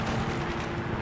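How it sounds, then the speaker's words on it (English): A Predator missile explosion in Modern Warfare 3 booms as a dense, continuous low rumble, loud and close, filling the whole second with broad blast noise and no talk. "Friendly Predator missile inbound."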